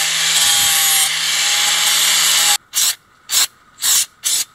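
A side sander grinds steadily against a rusty axe head, a loud continuous abrasive whine that then breaks into four short bursts with pauses between.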